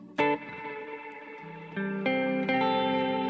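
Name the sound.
guitar through BOSS GT1000 with modulation and reverb effects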